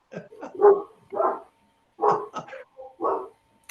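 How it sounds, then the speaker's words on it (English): A dog barks several times in short bursts, fairly close and clear, with brief pauses between the barks and no talk over them. "Where's the dog?"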